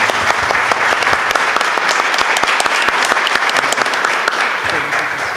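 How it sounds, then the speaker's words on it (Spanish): Audience applause at an international literature congress, given in thanks for opening the first panel on the history of literature. Loud, close, sustained clapping from many people, steady and dense throughout. "Pues lo vamos a premiar con un voto de aplauso por haber abierto la mesa"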